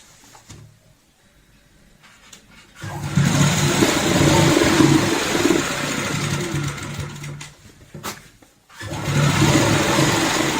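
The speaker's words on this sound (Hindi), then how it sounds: "और अब हमें ऊपर से यहाँ पे सिलाई लगानी है।" A sewing machine stitches the lining of a velvet travel bag, running in a long steady whirring burst, pausing briefly, then starting again close by.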